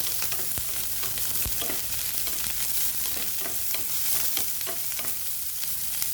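Onion and tomato sautéing in a pan for a sardine, egg and vegetable dish give a steady, close sizzle, with soft scrapes and taps of stirring throughout and no talking.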